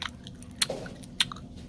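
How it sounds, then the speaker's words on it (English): A carrot being bitten and chewed, with a couple of sharp crunchy bites standing out among soft, close mouth noises in an otherwise quiet setting. "She chewed."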